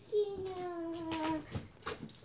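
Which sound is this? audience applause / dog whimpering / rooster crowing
dog whimpering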